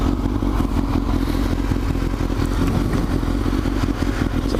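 A motorcycle engine runs steadily and close on a new rider's first ride after a basic rider course, with the bike slipping through neutral while shifting. The mechanical drone is continuous with faint clatter, and no voice is heard.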